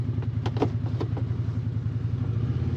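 A 2025 CF Moto Uforce 800 XL UTV engine drones at a steady mid pitch while crawling in four-wheel drive low range, with a few clattering knocks from the chassis near the start.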